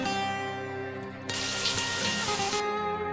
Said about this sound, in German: Aber vorher duschen.